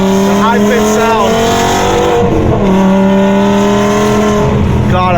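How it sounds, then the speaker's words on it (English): BMW E60 M5 with Evolve headers revving loudly at a trackday, a steady high-pitched engine drone with a brief dip and rise midway, close and continuous. "Let me know what you guys think about the sound with the Evolve headers."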